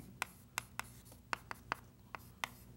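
Chalk or marker strokes on a classroom board during a geometry lesson, about ten short sharp taps and scrapes in an uneven rhythm, close and moderately loud over a low steady hum, with no talking.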